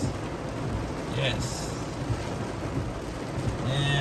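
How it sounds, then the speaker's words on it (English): Heavy rain pours steadily at the Eagle near a dam, a dense, close hiss filling the air with a faint rumble of thunder beneath it, and someone briefly speaks over the downpour. "It's raining so hard you can't even see the dam over there hardly."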